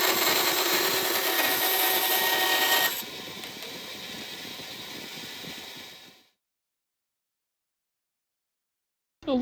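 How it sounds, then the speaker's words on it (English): Power sanding of a wooden Blackbird bass guitar body on a cluttered workbench: a loud, steady whir for about three seconds, then a lower, quieter run for three more before it cuts to silence. "A little final sanding on my very messy workbench"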